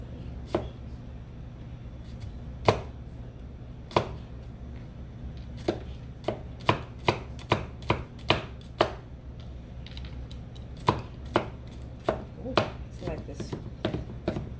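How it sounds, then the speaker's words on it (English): A knife chops fresh garlic cloves on a cutting board, giving sharp, close, irregular knocks in short bursts over a faint steady background hum. "I'm gonna cut up 3 fresh garlic cloves."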